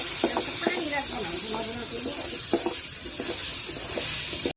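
Pigeon meat sautéed in a pan, with a soft hiss of frying and scattered scraping stirs of a spatula, fairly quiet and close, without talk.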